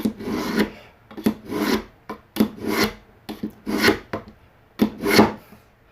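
A knife blade is drawn repeatedly through a sharpener in about eight rough, rasping strokes, close and loud, each a short gritty scrape separated by brief pauses.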